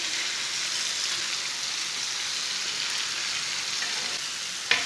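Chicken frying on a tawa with red chilli and turmeric over a lowered flame, a dense, even crackling sizzle close up, with a single sharp clink near the end.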